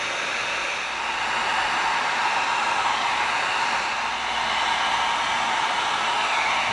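Heat gun blowing hot air over EVA foam pieces for a foam slug rifle build: a steady, loud broadband hiss and whoosh, continuous and unbroken throughout, with no talk.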